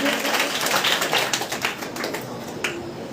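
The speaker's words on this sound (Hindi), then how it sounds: "जोरदार तालियां बजा के इनका भी स्वागत करेंगे।" An audience at a devotional gathering claps in welcome, a loud, crisp burst of many hands that thins toward the end.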